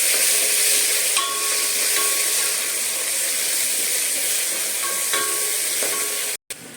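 Onions, carrot, beans and tomato stir-frying in a pan, a loud continuous hiss and sizzle with a few faint utensil clinks, cut by a brief dropout near the end.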